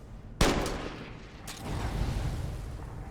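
Pistol shots in modded Skyrim: Special Edition, with a sharp loud report followed by a second fainter shot about a second later, each trailing into a rumbling low echo.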